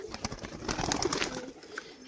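A pigeon kept for tumbling tricks, heard close in a brief burst of soft cooing and fluttering.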